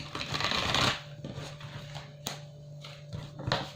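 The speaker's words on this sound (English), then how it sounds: "I'm going to bring out 6 cards from the Good Tarot" Tarot cards from the Good Tarot deck rustle and slide in a burst of shuffling, followed by scattered soft flicks and taps as individual cards are drawn, close and fairly quiet with no talking.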